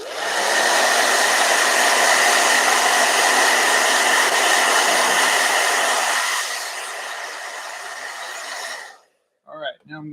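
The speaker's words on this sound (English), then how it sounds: "Blow dryer can't remove anything. It's just air." A hair dryer blows steadily and loudly for about six seconds while drying gouache paint, drops to a lower setting, then cuts off. Brief faint sounds follow.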